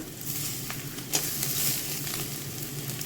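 Ghee going into a simmering taro curry in a pan: steady close sizzle and bubbling frying noise with a brief sharper crackle, no voices.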